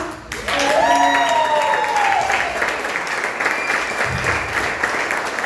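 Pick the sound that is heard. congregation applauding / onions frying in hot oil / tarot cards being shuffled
congregation applauding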